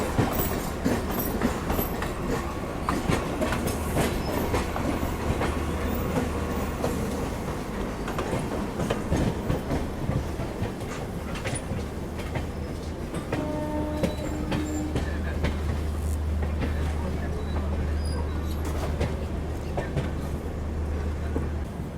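From inside a third-class AC coach of the Sealdah–New Delhi Rajdhani Express, the train rumbles steadily along the rails with rhythmic clickety-clack of wheels over joints and a brief metallic wheel squeal midway.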